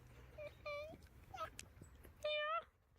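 Foxes making high, whining whimpers and squeaky cries, several short bursts with a longer one near the end, close and fairly loud against a low background hum.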